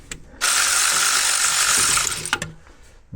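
An electric ratchet backs a bolt out of a 2019 Ford F-250 6.7 Powerstroke engine, one close, steady buzzing whir lasting about a second and a half, followed by a few short clicks.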